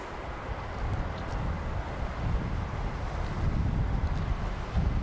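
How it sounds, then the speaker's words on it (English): Strong night wind blowing at an airfield at RAF Lakenheath, loud continuous buffeting and gusty roar against the microphone with no distinct other sounds. "The wind's definitely changed and it's got a lot worse."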